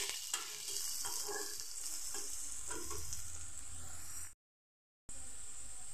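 Soaked split peas frying in a pan for a spinach dish, a dense continuous sizzle with scraping stirs, broken by a short gap of silence before the crackle resumes.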